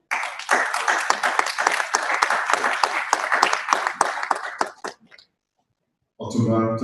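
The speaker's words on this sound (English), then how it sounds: "Let's clap for Otumba, please." An audience at a youth internet governance forum claps loudly in a dense burst that thins to scattered claps and dies away into silence, followed by a voice speaking.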